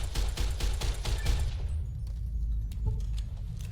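Gunfire in Fallout New Vegas, a quick run of about eight sharp shots in rhythm followed by a few scattered impacts and fading echoes, close and loud.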